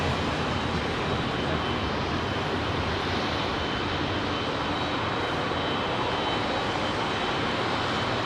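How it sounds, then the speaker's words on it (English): A Virgin Atlantic Airbus A330-300 with Rolls-Royce Trent 700 engines departs London Heathrow's runway 27R for JFK, a loud, dense, continuous jet roar holding level from start to finish. "This Virgin Atlantic Trent 700 powered A330-300 off to JFK."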